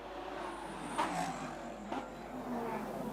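GT race cars run through the Solitude Esses on the Macau street circuit, with a steady engine roar throughout and two brief louder surges as cars pass nearby.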